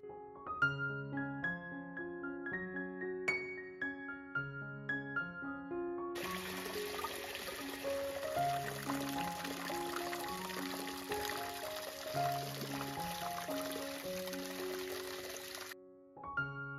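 Water fills a mini fish pond, entering partway through as a steady, rushing hiss that runs for about ten seconds and then stops, under a melodic tune that plays from start to finish.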